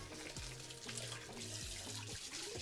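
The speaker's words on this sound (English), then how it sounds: "I'm just gonna put a little bit of water in my cake pan so I can wash these." Tap water runs steadily into a cake pan in a kitchen sink, a continuous splashing hiss with changing pitch as the pan fills, close and moderately loud with no talk.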